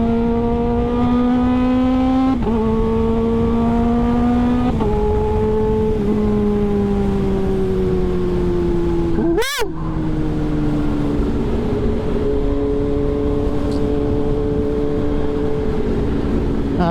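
A Kawasaki ZH2 motorcycle accelerates hard on the road, its engine whine climbing through repeated gear changes in a rising-then-dropping pattern, loud and close, with a brief thump in the middle and no talking.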